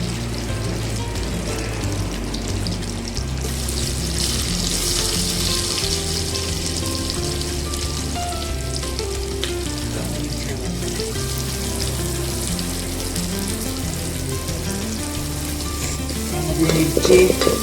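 Onion, green chili and garlic sauté in an oiled pan, a loud sustained sizzle with spatula scrapes and stirring clatter close by, and a brief louder burst of crackle near the end.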